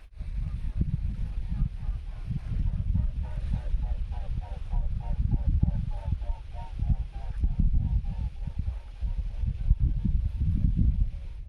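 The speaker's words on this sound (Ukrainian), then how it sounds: "Чому геготять великі птахи, коли летять" Two swans flying overhead give repeated goose-like honking calls in a steady rhythmic series at moderate distance, with wind and outdoor background noise underneath.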